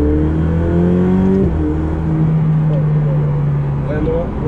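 A Ferrari 488 Pista or McLaren 600LT sports car engine hums and revs up through a gear change, a continuous close rumble with a voice talking over it.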